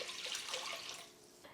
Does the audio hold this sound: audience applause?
no